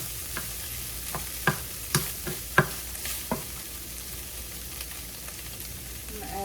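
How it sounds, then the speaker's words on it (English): Onions, garlic and chile sauté in a pan with a steady soft sizzle, punctuated by a handful of sharp utensil clicks and scrapes as the food is stirred. "I'm going to add my onions, garlic, and chile. Get those sauteing up a little bit."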